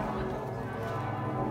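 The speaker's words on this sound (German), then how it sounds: "Und alle Glocken läuten, jubeln." Full peal of church bells at the Basilika St. Jakob in Straubing, a dense, steady wash of overlapping bell tones heard from a distance, fairly faint, with no clear separate strikes.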